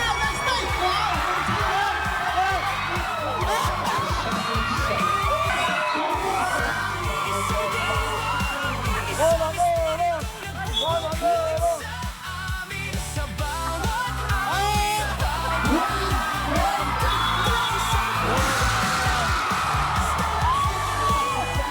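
A crowd whoops, yells and cheers continuously at an exhibition basketball match between SM9 anchors and Team Banateros, a loud, energetic roar with voices rising and falling throughout.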